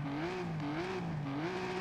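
A 7.7-litre V12 engine in a Midnight Club racing game revs in repeated rising sweeps, three smooth climbs in pitch with short drops between, steady and fairly faint.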